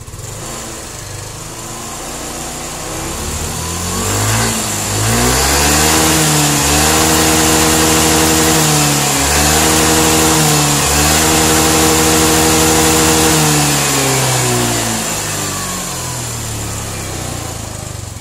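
A Yamaha Fino 125 scooter with a failed fuel pump IC idles, then is revved up and held at a loud, steady high pitch for about ten seconds before easing back down. No one speaks.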